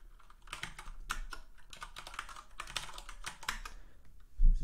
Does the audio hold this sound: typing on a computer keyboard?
yes